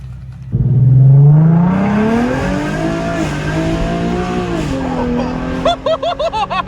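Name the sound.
Nissan 370Z with Z1 Motorsports cold air intake driving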